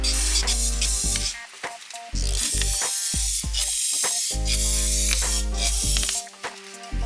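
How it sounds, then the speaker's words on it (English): Loud bursts of brake cleaner aerosol spray hissing close by during clutch work on a 2008 Honda Civic Si, several long sprays broken by short pauses. "While we're up here, go ahead, spray a brake clean."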